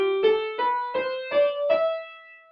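A Phrygian mode scale with its lowered second degree, played as a steady ascending sequence of five clear pitched notes with the final tone sustaining and fading, heard on its own.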